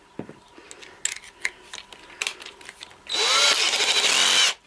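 A power drill runs alone, close and loud, in a single whining burst of about a second and a half. Before it come scattered clicks and clatter of parts and tools being handled.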